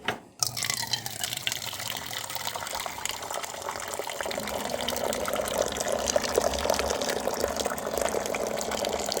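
Hot water pours steadily into a bowl, a continuous close splashing and gushing stream after a brief knock at the start, filling for several seconds with no talk.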